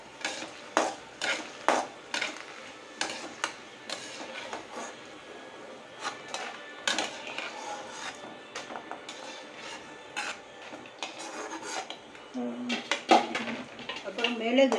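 Dried red chillies dry-roasting in a pan, heard as a busy run of sharp metallic scrapes and clinks of a spoon against the pan, close and irregular, with little sizzle and no clear talk.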